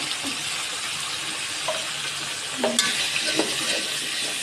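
Ground turmeric, coriander and chili masala fry lightly in oil for a chicken and potato curry, giving a soft continuous sizzle with a few faint utensil scrapes and knocks near the middle.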